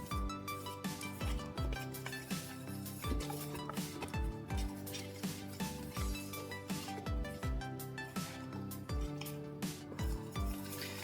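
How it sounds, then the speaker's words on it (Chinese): Chopsticks whisk flour batter in a bowl for fried banana corn fritters, a steady rhythmic clinking and scraping against the bowl wall, quick repeated strokes close up and without any voice. "我们用这个筷子啊，把它搅拌均匀"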